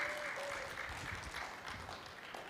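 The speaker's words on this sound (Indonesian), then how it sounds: "Tepuk tangan dong promonya." Steady applause from an audience at a talk show event, a dense wash of clapping that carries on evenly throughout.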